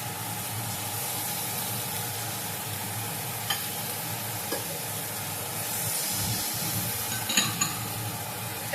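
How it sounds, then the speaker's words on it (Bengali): A spoon stirs cashew-poppy seed paste into fried spices in a pan for a potato and cauliflower curry, giving a steady soft sizzle with occasional scrapes and clicks, close and continuous with no voices. "এটা দিয়েও আমি কিছুক্ষণ নেড়ে নেব"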